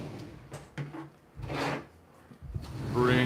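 A plastic part of a toy Snake Mountain castle slid back across its track, giving scraping, rubbing and knocking sounds in bursts, close and fairly loud with no talk.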